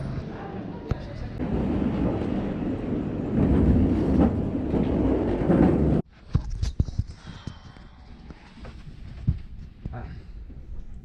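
Riding a Eurostar train toward London: a steady rolling rumble for several seconds, then a quieter interior with scattered clicks and clacks of the carriage.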